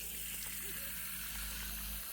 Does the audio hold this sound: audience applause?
no